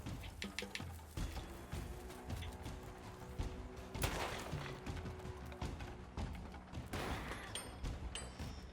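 Gunfire in the SteamWorld Heist II video game, a string of sharp shots and thuds over a busy game soundscape, with a heavier burst near the middle and another later on.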